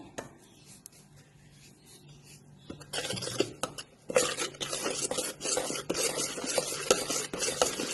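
Maida is stirred into a tuna pie filling in a pan, quiet at first, then bursts of rubbing, scraping strokes with a soft sizzle underneath that grow busier and louder toward the end.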